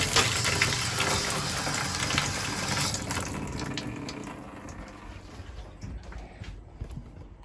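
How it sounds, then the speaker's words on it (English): RV antifreeze gushes in a steady continuous stream from a water faucet in a Jayco X213 camper being winterized, a broad rushing splash that slowly thins and grows quieter toward the end, close and without talk. "So we have steady flow, continuous flow of antifreeze."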